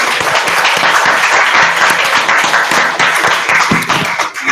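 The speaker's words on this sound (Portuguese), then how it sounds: "vamos dar uma salva de palmas para a Silvia" A crowd applauds steadily and loudly at the close of a medical meeting, dense clapping filling the whole stretch with no voices.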